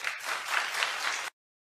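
Hands clap in quick, continuous succession for just over a second, close and fairly loud, then cut off abruptly into silence.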